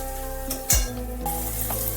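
Spice paste frying in oil for a yogurt chicken curry, a close, steady sizzle broken by one loud clatter of a pot or utensil, with no speech.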